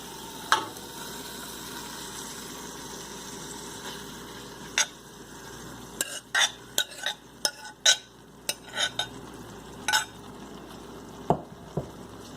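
Dal goes into a pan and is stirred, giving a low background sizzle broken by sharp clinks and scrapes of a spoon against the pan in irregular bursts, with no talking.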